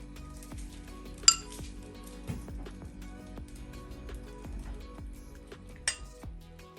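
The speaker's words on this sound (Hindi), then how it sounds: "अब मैं डिश आउट करती हूँ।" Pesto pasta is served onto a plate with light clinks of a metal utensil against the dish, two brighter strikes standing out over a quiet kitchen hum.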